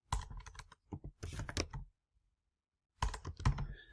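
Keys clatter on a computer keyboard in two quick bursts of close typing, with a short silent pause between them.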